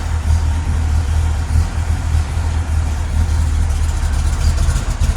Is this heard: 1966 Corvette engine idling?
yes